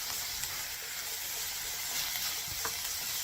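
Onion and garlic seasoning sautéed with pepper and chicken in a pan gives a loud, continuous close-up sizzle and hiss, with occasional stirring scrapes.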